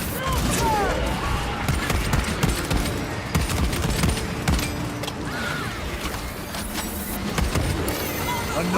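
Rifle fire in a Warhammer 40K video game, a dense continuous barrage of shots and clattering mechanical noise throughout, with a voice talking over it.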